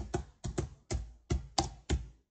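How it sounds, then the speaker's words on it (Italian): Keys on a computer keyboard struck in short separate bursts, about seven distinct clacks in an uneven rhythm, close and clear with no talk. "Va su CTRL F, qui digita canale 5"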